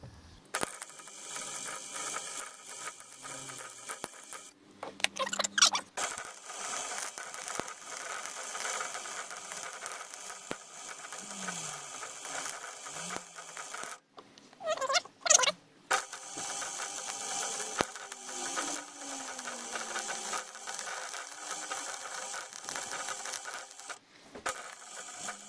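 MIG welding a seam along the edge of a bed frame: a steady, close crackling buzz runs through most of the stretch, broken by two short louder bursts of clamp or metal handling, and ends with a brief clatter.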